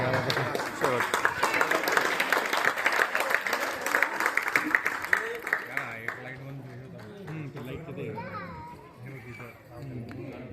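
Audience at a Mangalagaur celebration clapping, dense rapid applause mixed with children's chatter and voices, fading into talk and babble after a few seconds.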